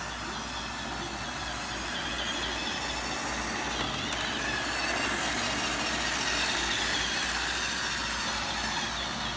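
An iRobot Roomba 690 robot vacuum runs across a home floor near the edge of a landing, giving a steady, moderately distant whirring hum of motor and brushes that holds throughout without talk.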